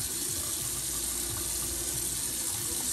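Tap water runs steadily into a sink as someone rinses off after shaving, a continuous close hiss of flowing water with no talk.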